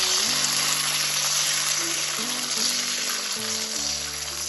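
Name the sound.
batter sizzling in hot oil in a pan for patishapta pitha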